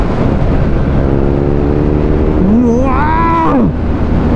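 A BMW motorcycle engine accelerates in third gear, its pitch rising steadily and then surging sharply before dropping away, heard over loud, steady background noise at an outdoor motorcycle event.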